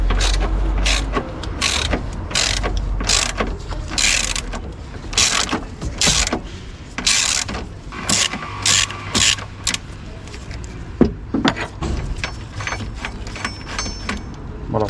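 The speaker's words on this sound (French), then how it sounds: "on va prendre la rallonge, la clé de 13, l'embout de 13 et pareil, on va le desserrer" Ratchet wrench with an extension and 13 mm socket loosening a battery bolt on a Dacia Sandero, close and loud with repeated sharp clicking bursts and metallic clatter, brief pauses between strokes, no talk.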